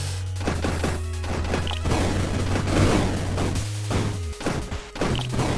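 Explosions in the game Monolith: a string of loud sharp blasts and crashing hits over a steady low electronic drone, repeated bursts closely spaced and up front.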